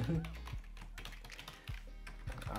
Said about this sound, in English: my typing going all crazy right here